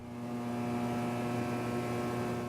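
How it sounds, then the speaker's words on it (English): Steady electrical hum of a film projector in the horror game Harvester, a constant low drone with strong harmonic lines holding at an even level for the whole stretch, with no talk over it. "A projector carefully engineered to sound good when played underwater."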